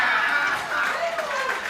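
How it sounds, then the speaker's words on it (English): At a Jungle Gym Open ninja competition qualifier, a crowd breaks into loud sustained applause and cheering, a dense wash of clapping with a voice rising over it. "And a huge ovation from the crowd for such an exciting run"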